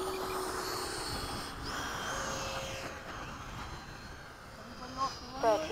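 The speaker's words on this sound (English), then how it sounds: "I'm doing a touch and go." An 80mm RC Hawk jet aircraft performs a touch and go, its turbine whine holding steady and loud, dipping slightly midway, with brief thumps near the end.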